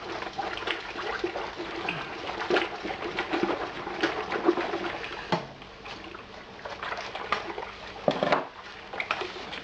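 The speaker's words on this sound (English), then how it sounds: "So I'm going to mix this in here before we come to a boil" Malt extract stirred into a home-brew pot of hot liquid before the boil, continuous sloshing and scraping with irregular clunks of the spoon against the pot, close and steady.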